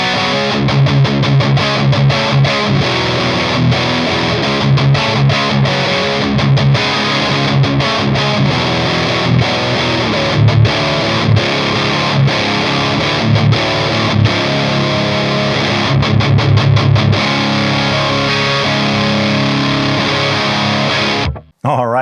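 A loud electric guitar through distortion pedals plays chugging riffs and chords with choppy stops, continuous and up close, cutting off abruptly at the end.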